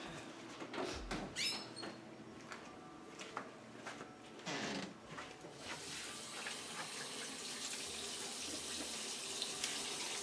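Hands being washed under a running tap in a clinical setting. Some handling clatter comes first, then a steady, moderately loud rush of water flows continuously to the end.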